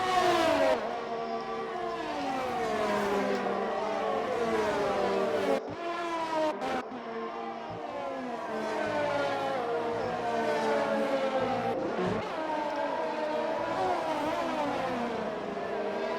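Racing cars in an Xbox One racing game at the Dutch Grand Prix, including a Ferrari, scream past with rising and falling high-pitched engine whines, repeated gear shifts and overlapping revs, loud and continuous.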